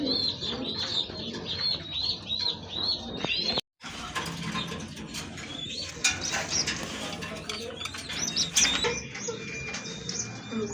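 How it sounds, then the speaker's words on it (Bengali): Pigeons kept for sale coo and chirp steadily at close range, with scattered rustles and mechanical clicks, a brief dropout near the middle, then a denser stretch of calls and movement. "আজকে কিছু কবুতর দেখাবো আপনাদেরকে এগুলো সেল করা হবে"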